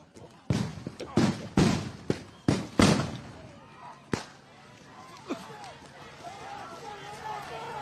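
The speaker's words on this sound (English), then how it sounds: "one of their reporters was injured, hit in the head by a flashbang" Flashbang grenades exploding at a protest, a run of sharp loud bangs in quick succession at the start, then a final bang, with shouting voices and crowd noise continuing underneath.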